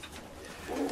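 Soft, low cooing of young striped pigeons close by, a brief murmuring call rising toward the end, with no speech.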